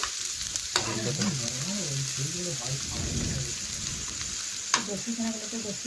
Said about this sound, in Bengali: পেঁয়াজ কুচি দিয়ে দিলাম এখন পেঁয়াজ একটু হালকা নাড়াচাড়া আমি করে নিচ্ছি তেলের সাথে